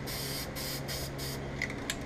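An upside-down can of spray paint blows out its nozzle in a run of short, quiet hissing bursts with brief gaps between them, close by and without talking.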